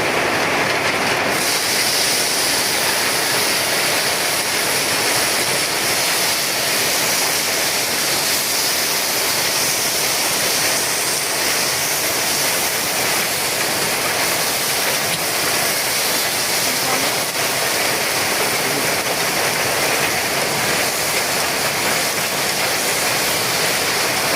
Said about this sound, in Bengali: প্রচুর বৃষ্টি হচ্ছে বন্ধুরা, কথা শোনা যাচ্ছে না ঠিকঠাক মতো